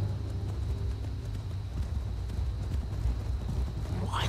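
Horse hooves clip-clopping in the video game Skyrim, a steady rhythmic trotting beat over a continuous low background rumble.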